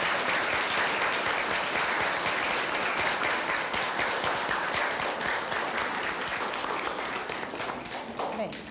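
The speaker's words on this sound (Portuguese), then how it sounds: "nós vamos aplaudir as felicitações que vocês trouxeram para esta assembleia" Sustained applause from a school assembly crowd, dense steady clapping for about eight seconds that tapers slightly at the end, with a murmur of voices mixed in.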